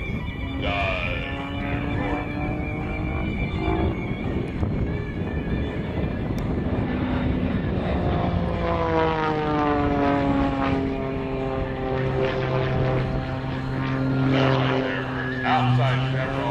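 A propeller aerobatic airplane dives at an airshow, its engine droning and rising and falling in pitch as it sweeps past, loud and steady, while an announcer talks over a public address system.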